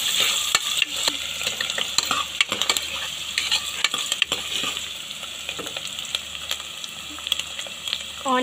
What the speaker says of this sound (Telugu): ఆనియన్స్ కొద్దిగా ఫ్రై అయిన తర్వాత దీంట్లోకి 1 tablespoon పసుపు అన్నది యాడ్ చేసుకుంటున్నాను